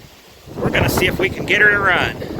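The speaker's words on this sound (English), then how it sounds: "Sorry about the wind. It's windy as heck," Gusty wind buffets the microphone outdoors beside an abandoned 1989 Dodge Ramcharger 2wd, giving a low, rumbling roar while someone talks over it.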